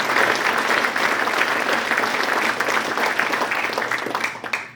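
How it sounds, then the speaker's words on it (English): A large audience at a West Point athletic director introduction claps loudly and continuously, a dense, steady applause that tapers slightly at the end. "We're going to clap again for that one."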